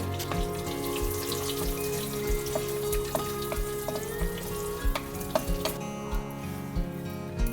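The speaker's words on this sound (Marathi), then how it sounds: "सगळ्यात आधी एका पातेल्यात दोन अडीच चमचे तूप घालून ड्रायफ्रुट्स भाजून घ्यायचे" Cashews and other dry fruits roast in about two spoonfuls of ghee in a pot, the start of a quick kheer. A close, steady sizzle runs throughout, with scattered clicks and scrapes from stirring and no talk.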